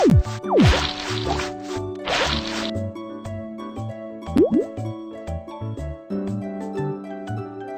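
Cartoon water rinsing soap bubbles off hands in a kids' hygiene game, with bubbly plops and drips over light, bouncy background music, close and fairly clear.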